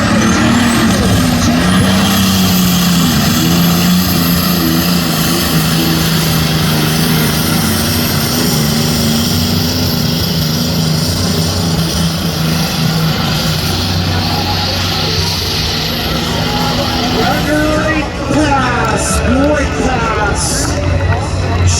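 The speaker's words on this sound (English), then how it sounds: "This is a case tractor that's been converted to run on alcohol" Loud, continuous roar of a Case pulling tractor converted to run on alcohol, straining through a pull at a tractor-pulling event, with engine noise filling the whole stretch and a change in tone near the end.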